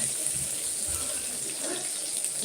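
Water poured into a cooking pot while making a fish-roe curry in a home kitchen, a steady, fairly loud splashing gush running throughout without pause.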